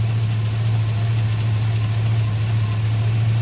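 A Chevrolet Tahoe engine idles steadily and close by, a constant low hum with a smooth, unchanging drone and no talking.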